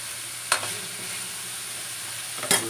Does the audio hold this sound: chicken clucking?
no